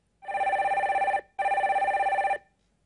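A telephone rings twice in clean, loud electronic bursts with a short gap between them as a caller is connected to a Korean radio call-in show about stock market complaints.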